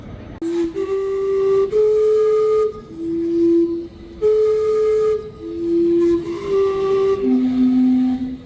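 Vancouver's old Gastown steam clock whistles steam, a sequence of sustained hooting tones at shifting pitches playing a short tune, loud and close over a hiss of steam and street ambience.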